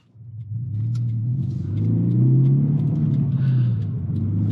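A Toyota 86/Subaru BRZ on Wedssport TC105X wheels and 245-width Continental ExtremeContact Sport tires pulls away. Its engine rises into a steady, close, low drone with faint cabin noises.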